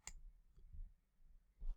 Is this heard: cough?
no